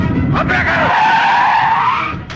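In a 2007 Telugu film, a car skids with a long, loud tyre squeal lasting about two seconds, alone with no talk over it.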